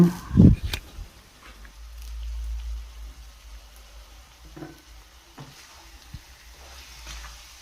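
Curry with curry leaves just added sizzles softly in a pan as it is stirred, a sharp spatter near the start and then a low, steady fry with occasional scrapes.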